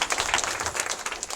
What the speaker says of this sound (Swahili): Mjipigia yake makofi